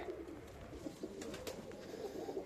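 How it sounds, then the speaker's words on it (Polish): Pigeons in a loft keep up a faint, continuous low cooing, several birds murmuring together with a few light clicks and rustles. "takie te gołąbki są"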